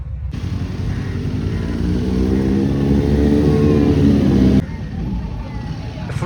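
Superbike engines rev loudly and steadily close by at a bikers' meet, a sustained roar that cuts off abruptly near the end, followed by quieter engine noise.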